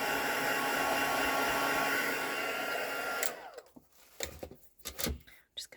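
A heat tool blows steadily for about three seconds while melting embossing powder for a stamping craft, then cuts off, leaving scattered small handling knocks and taps.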